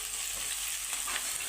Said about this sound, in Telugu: కరివేపాకును బాగా చిట్పట్లాడాలి, అప్పటి వరకు వేయించేసుకోవాలి.